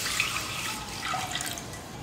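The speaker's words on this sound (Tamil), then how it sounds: "இப்போ இந்த தண்ணியை சேர்த்துக்கிறேன்." A cup of water is poured into a pot on a stove, a faint, soft, steady trickle and splash lasting a couple of seconds.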